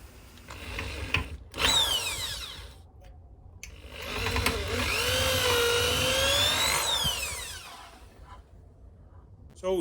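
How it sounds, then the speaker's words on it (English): A power drill whines in two bursts, the second long and steady with pitch rising and falling as it bores through metal, drilling out an upper control arm bushing on a Mercedes W210. "Here you can see I am drilling it now."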